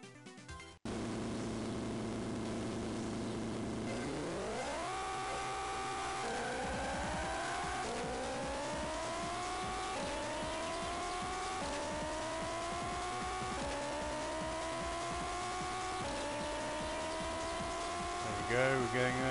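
Race car engines in a drag race on Drome Racers for Game Boy Advance, a continuous electronic engine drone that steps up in pitch with each gear shift over a steady hum.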